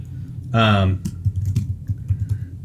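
Quick, light keystrokes tap on a computer keyboard after a short tonal sound, with the clicks coming in an uneven patter close to the microphone.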